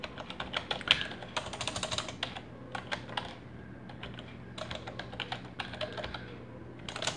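Rapid computer keyboard typing while entering text in a word processor, a steady run of close, crisp key clicks in uneven bursts with short pauses, with a low background hum and no voice.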